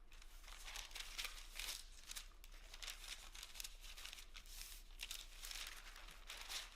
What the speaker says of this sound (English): So kind of making a parchment bag inside a bag.